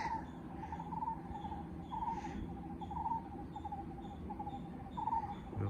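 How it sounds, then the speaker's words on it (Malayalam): Faint, repeated chirping and trilling calls from birds in the forest on Maruthwamala hill, quiet outdoor surroundings, regular and distant, with no talking. "പക്ഷികളൊക്കെ കരയുന്ന സൗണ്ടൊക്കെ"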